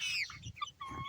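Chickens in a chicken tractor cluck and squawk in a brief burst of close, moderately loud calls with a rising screech at the start.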